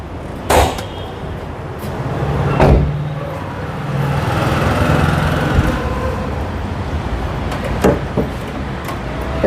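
A Toyota Fielder's 1500 cc engine runs at a steady, low idle rumble. Occasional sharp clicks and knocks sound close by, with no speech.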